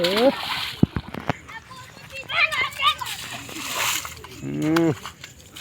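Water splashes in sharp bursts during a village football match, mixed with excited shouting and children's voices close by.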